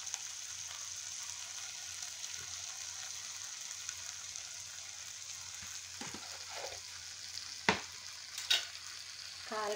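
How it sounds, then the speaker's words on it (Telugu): Drumstick curry with freshly added chili powder cooks in a pan with a soft, steady sizzle. A few sharp spoon scrapes and stirring knocks come near the end. "కారం వేసుకుని ఒకసారి అంటే ఈవెన్గా కలుపుకుందాం ఫ్రెండ్స్"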